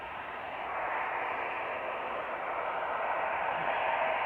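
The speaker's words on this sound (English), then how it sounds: "Is that EasyJet making all that noise?" An EasyJet airliner at Manchester Airport produces a broad, steady, loud engine roar with a hissing, wind-like quality that swells slightly and holds without a break.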